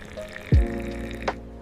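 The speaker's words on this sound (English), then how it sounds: "You pour your coffee." Coffee poured from a pot into a cup, a single close splash followed by a steady trickling stream and a brief clink near the end, with no voices.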